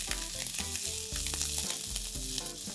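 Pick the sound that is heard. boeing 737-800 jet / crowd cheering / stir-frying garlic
stir-frying garlic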